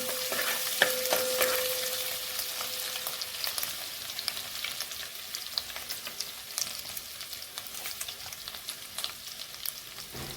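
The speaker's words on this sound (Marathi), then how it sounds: "आणि अर्धा चमचा चिरलेलं आलं घालूया थोडंसं परतून घेऊया" Chopped ginger and garlic sautéing for chicken fried rice, a continuous close sizzle with frequent light scrapes and ticks of stirring, steady throughout.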